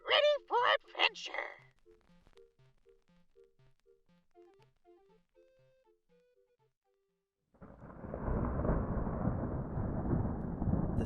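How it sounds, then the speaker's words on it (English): A low distant rumble of thunder rolls in and holds steady at the end, after a stretch of soft plucked game music and a brief near-silence, as a sleep-story soundscape. "the sound of a distant thunderstorm starts to roll onto the island"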